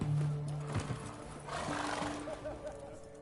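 Roach, Geralt's horse in The Witcher 3, gives a loud, close neigh over galloping hoofbeats, with a faint clip-clop rhythm continuing afterward.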